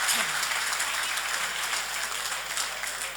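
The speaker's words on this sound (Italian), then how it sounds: "Un bel applauso anche per loro." An audience at the Gran Galà del Calcio Sardo awards gala applauds Polisportiva Bonorva with steady, dense clapping filling the hall, continuing evenly from start to finish.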